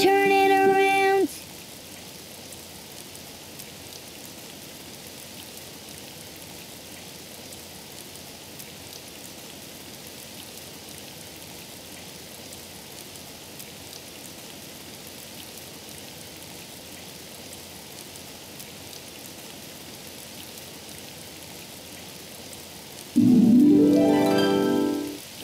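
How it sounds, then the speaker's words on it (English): Steady rain falls outdoors as a soft, continuous hiss lasting over twenty seconds, with brief louder sounds at the very start and end. "Oh, it's raining outside."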